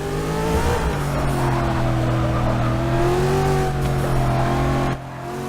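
A Ford Mustang, the driver's own car recreated in Forza 6 at Laguna Seca, revs hard after a downshift into first, a loud steady engine drone with rising and falling pitch that drops off abruptly near the end.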